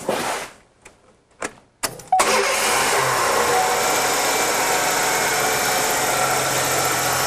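A car engine under repair cranks and catches after a few short bursts, then settles into a steady, even idle that runs smoothly to the end without talk.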